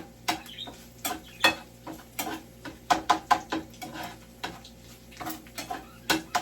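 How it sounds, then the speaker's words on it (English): Utensil clicking and tapping against a bowl while mixing eggs and other ingredients, a steady string of sharp, close, uneven knocks. "now I'm going to mix everything together"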